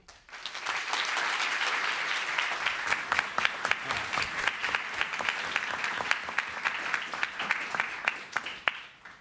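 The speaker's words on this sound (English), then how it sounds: "You really probably shouldn't be applauding for me" An audience at an event applauds as the host is welcomed, a sustained round of clapping that thins into sparse individual claps toward the end.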